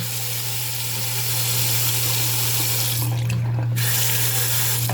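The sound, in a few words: new bathroom faucet running water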